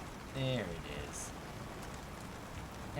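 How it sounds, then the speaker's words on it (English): Light rain patters steadily in the background in the survival game Icarus, with a brief tonal musical sound near the start and a short high hiss a moment later. "And it's very light rain."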